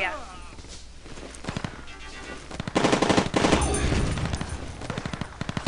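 Rapid bursts of automatic gunfire and single shots from the mobile shooter Rivals at War: Firefight, growing louder midway and continuing in clipped volleys, with someone talking over parts of it.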